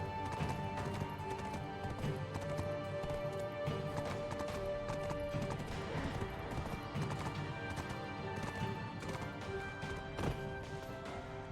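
Horse hooves clip-clop steadily with an occasional whinny in the online RPG Black Desert, playing continuously over layered game music and ambient effects.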